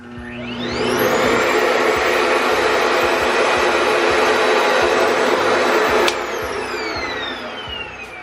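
A RevAir suction hair dryer's loud motor whirs up to a steady high-pitched roar like a vacuum, runs continuously, then drops in pitch as it winds down.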